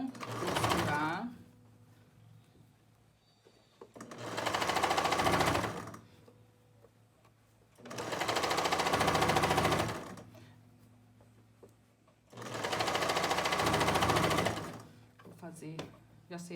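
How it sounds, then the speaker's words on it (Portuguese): Sewing machine stitching a bathroom toilet seat cover, with four close, steady bursts of rapid mechanical whirring, each a few seconds long, separated by quiet pauses. "Então, eu vou costurar."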